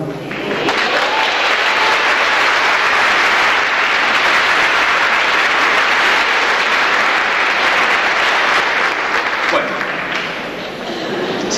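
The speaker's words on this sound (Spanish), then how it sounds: "con un fuerte aplauso lo comprometemos a que el Gordo Kennedy nos cante algo más" Audience applause for a choir singer at a choir performance, a broad, loud and sustained burst of clapping that carries alone across the whole stretch before easing near the end.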